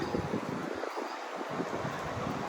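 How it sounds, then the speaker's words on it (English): Steady wind noise rumbles and buffets against the microphone, a continuous blustery roar with no voices. "Alright, so still pretty windy."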